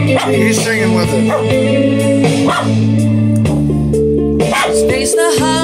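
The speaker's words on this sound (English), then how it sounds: "Dog barking too, that's all right." A dog barks and yips several times in irregular bursts, loud and close, over music and a person singing.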